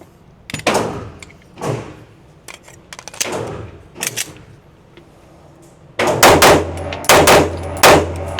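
Pistol shots fired in pairs at a range from a Sig Sauer P211 or Kimber 2K11 Comp, sharp close cracks spaced out at first, then a louder rapid cluster of shots near the end.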